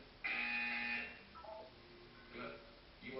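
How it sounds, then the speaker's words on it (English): A loud synthetic buzzer tone from the video game Portal 2 sounds once for about a second, followed by a few fainter electronic beeps and chirps. "You will hear a buzzer."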